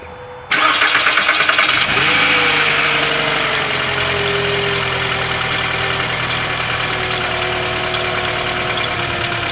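A 2001 Volkswagen New Beetle that had sat unused for months cranks and starts after a battery replacement, catching with a sudden loud roar, then settling into a steady, close, slightly rough idle.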